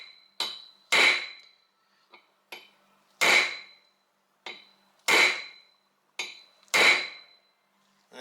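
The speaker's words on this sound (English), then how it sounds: "So we're going to use a punch and a hammer." Sharp metallic hammer strikes on a punch ring out while driving out a sheared wheel stud on a fifth wheel RV, about a dozen blows in an irregular rhythm, some light taps and several heavier hits, close and clear with silence between.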